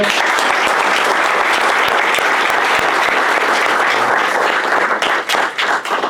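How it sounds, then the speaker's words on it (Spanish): Loud, dense applause from an audience at a panel on local government in the digital era, sustained clapping filling the whole stretch before thinning slightly toward the end. "les pido un fuerte aplauso para ellos"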